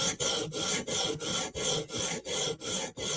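Steady, rhythmic rasping strokes as a knife with a chipped edge is drawn along a sharpening stone, about nine even passes with brief gaps between them, close and clear with no voices.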